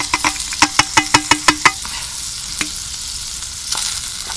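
Sliced onions tossed into a pan of bacon lardons over an outdoor fire, a loud close sizzle punctuated by a quick run of rhythmic spatula knocks against the pan, then a few isolated scrapes.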